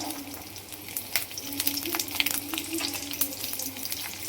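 Local desi garlic frying in a pan with ginger for paneer masala, a close, steady sizzle with crackles and occasional stirring scrapes throughout.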